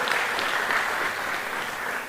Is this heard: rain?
no